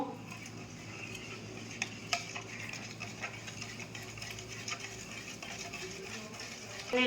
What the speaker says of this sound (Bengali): চিনিটাকে সুজিটাকে ভালো করে গুলে নিয়েছি